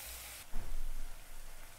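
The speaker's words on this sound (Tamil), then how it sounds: "வெங்காயம் வதங்கிட்டு இருக்குங்க" Onions sautéing with salt in a pan for a jackfruit gravy, a steady broadband sizzle and hiss that drops briefly and returns with uneven crackling, close and continuous.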